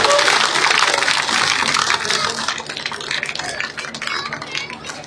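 A crowd at a village rally in Hasanpur near Gannaur applauds loudly to welcome a politician, the dense clatter of clapping strongest at first and then thinning out over about five seconds.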